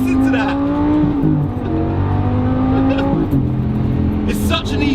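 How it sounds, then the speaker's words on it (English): A stage 1 tuned Lamborghini Gallardo LP560 revs loudly on downshifts, its engine note rising and dropping in quick blips as gears change, heard close and continuous from inside the car. "Listen to them downshifts."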